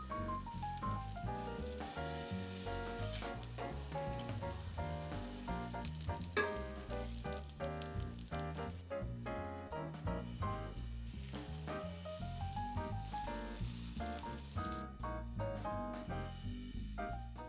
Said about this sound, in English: we want that pan sizzling when the chicken goes in, but not really sizzling because we don't want the browning to burn